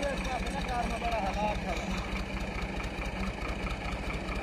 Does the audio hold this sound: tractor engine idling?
yes